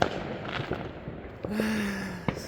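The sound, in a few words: fireworks being set off during a celebration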